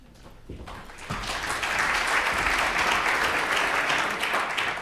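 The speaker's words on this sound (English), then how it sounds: "Well, thank you, ladies and gentlemen, for that clap." Audience at a London mayoral candidate event at the LSE applauding UKIP candidate Peter Whittle: steady, dense clapping from a crowd that swells within the first second and holds, fairly close.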